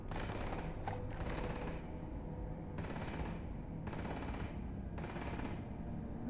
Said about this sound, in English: like what are you shooting at, Mathis?